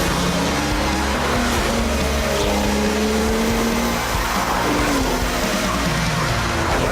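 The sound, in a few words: Porsche 911 GT2 twin-turbocharged 3.6 litre six-cylinder engine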